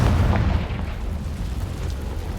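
Confringo spell explosion in Hogwarts Legacy, a loud, deep boom at the start that settles into a lingering rumble.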